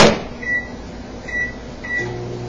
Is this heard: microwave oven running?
yes